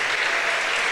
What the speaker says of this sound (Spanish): Démosle palmas al Rey de Reyes.